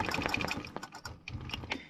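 A sewing machine stitches lines of a stencil background design in quick, uneven bursts of needle clatter, a short run then a pause and another faint, close burst.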